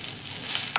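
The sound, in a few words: chow mein noodles frying lightly in refined oil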